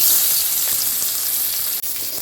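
Steady, loud sizzling of a spice paste frying in hot oil left from frying fish, a dense continuous hiss with no voices.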